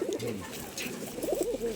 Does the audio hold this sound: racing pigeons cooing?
yes